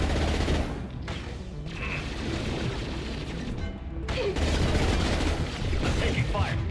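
Heavy gunfire and explosions in the Mass Effect 2 shooter, a dense barrage of loud cracks and booms with brief gaps, continuous and close throughout.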